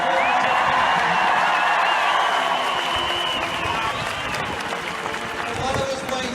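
A huge crowd at a Jeremy Corbyn rally roars with sustained cheering and applause, loud and close, a dense unbroken wash of clapping and shouts with occasional whoops that holds steady throughout.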